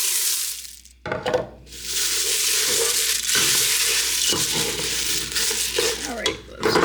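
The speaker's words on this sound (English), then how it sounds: "I'm just going to turn this off and start mixing in the cereal." Cornflake cereal is stirred into a warm melted cookie mixture, giving a close, crunchy scraping and crinkling that comes and goes in strokes, with brief pauses and a few gentle knocks.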